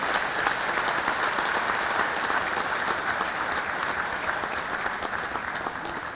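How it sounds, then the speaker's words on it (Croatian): Steady, dense audience applause at a large formal banquet for a 1,200-person Serbian delegation in Hanioti, Greece, honouring doctors and medical staff from Belgrade; sustained loud clapping throughout with no talk. "Ja veliki aplauz za njih."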